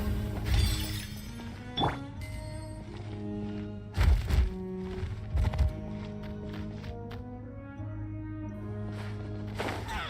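Bombs thrown and smashing in Genshin Impact, several heavy thunks and crash bursts at irregular moments, layered over sustained musical game tones.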